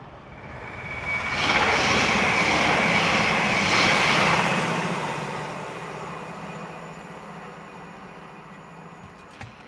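A TransPennine train passing on the down fast line outside Preston, a broad rushing roar that swells for several seconds, then fades steadily as it moves away.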